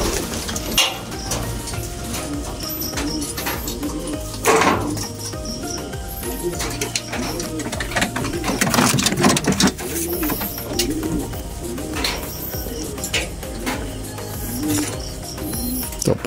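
Racing pigeons coo steadily before a first training toss on the north road, with a dense flock murmuring close by and occasional light clinks and wing flutters mixed in.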